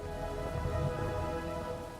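Steady rain falling, a soft continuous hiss of drops with a faint patter underneath, fairly quiet and even throughout, with no voices.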